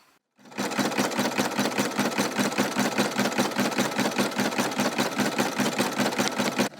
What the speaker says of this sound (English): I am just going to do a zigzag stitch around every single edge, even the inside of the letter.